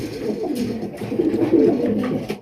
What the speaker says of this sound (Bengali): অরিজিনাল ইন্ডিয়ান বোম্বাই কবুতর দেখতে পাচ্ছেন